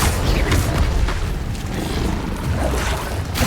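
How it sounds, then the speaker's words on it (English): Incendio fire spell cast in the video game Hogwarts Legacy, heard as a loud, steady rumbling whoosh of flame with deep booming body running through the whole stretch, no speech. "Incendio."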